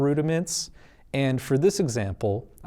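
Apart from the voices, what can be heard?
None of the usual background noises is heard.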